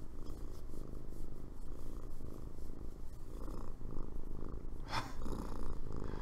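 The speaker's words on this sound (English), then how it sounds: "She's like full body purring, man." A cat purrs loudly and close up, a steady rhythmic rumble rising and falling with each breath, with no talking.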